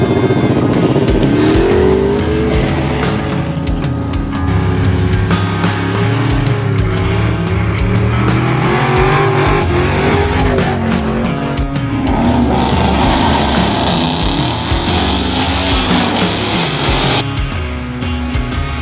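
A 6-liter LS V8 swapped into a 1979 Chevy K10 square-body pickup runs loud and steady, with the revs rising and falling throughout and a harsh rough-edged roar near the end.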